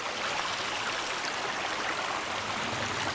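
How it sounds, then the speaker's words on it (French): A small stream flowing through the woods, a steady close wash of trickling water holding an even level throughout with no voices. "quand tu te promènes en plein milieu des bois et que tu trouves un petit ruisseau"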